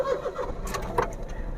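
A 2014 Toyota Vitz 1.0L F Package car's engine cranks briefly and catches, a short close-up start from inside the car with a quick whirr of the starter before settling.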